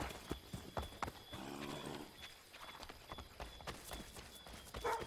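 Horse hooves clip-clop in quick, uneven beats in the Assassin's Creed III game, with a short whinny partway through, all close and fairly quiet.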